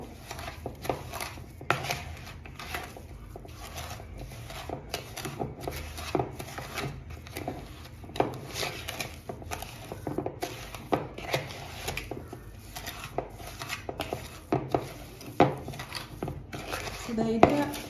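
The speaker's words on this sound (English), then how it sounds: "It's easier when you use a mwiko to mix the two together before introducing the other ingredients." A wooden spoon mashes margarine and sugar together in a bowl for a banana cake, giving repeated scraping knocks and clicks against the bowl, close and steady, with a few soft sounds between strokes.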